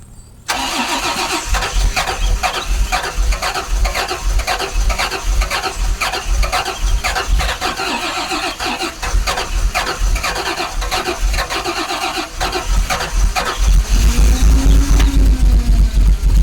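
Rolls Royce Silver Spirit being cold started: a long, steady rhythmic cranking of the starter that runs on and on, then the engine catches and fires up near the end, loud and close with no talk.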